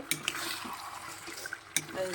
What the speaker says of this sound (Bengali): এখন মাটনটা কষা চলছে।